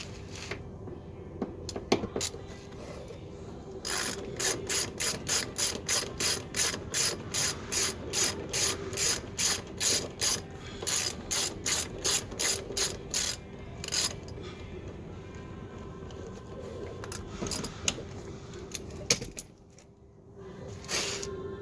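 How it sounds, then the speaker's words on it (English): Ratchet socket undoing the seat bolts of an Alfa Romeo GTV, a close run of rapid, evenly spaced metallic clicks that goes on for several seconds, followed by a few shorter bursts of clicking and some soft handling noise. "So I'm going to start by undoing those bolts first."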